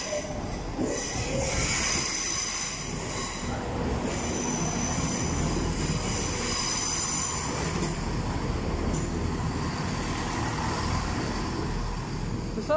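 A Class 170 diesel multiple unit runs through Nottingham station on the Midland Main Line, giving a steady, loud rumble with wheel hiss and high squeals across the whole stretch and no talking.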